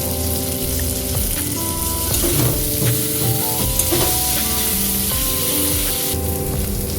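A paste of turmeric, ginger and green chili sizzles loudly in a hot oily pan for cabbage curry with prawn, a continuous close spitting hiss with a faint hum from a machine in the background and occasional stirring.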